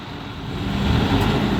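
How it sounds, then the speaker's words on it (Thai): A Fuso truck's diesel engine revs to lift a dump truck bed after its hydraulic hose burst, a close, low rumble that builds steadily louder over a second and a half. "เร่งเครื่องวะเร่งเครื่องวะ"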